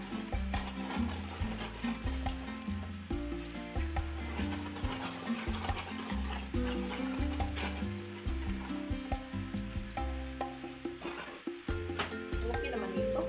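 Minced meat and mixed vegetables stir-fry in a hot pan, with a steady close sizzle and occasional stirring scrapes running throughout under prominent background music.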